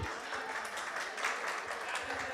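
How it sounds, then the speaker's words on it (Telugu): A group at a get-together claps together in a soft, steady patter of applause, fairly faint and sustained, with some voices mixed in. "ఒకసారి అందరూ క్లాప్స్ కొట్టండి"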